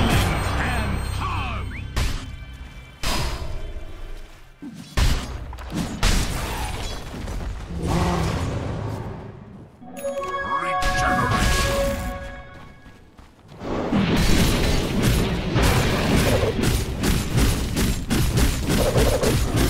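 Dota 2 tower being destroyed amid dense battle noise, heavy thuds, crashes and bursts layered continuously with game music and effects, loud and busy throughout.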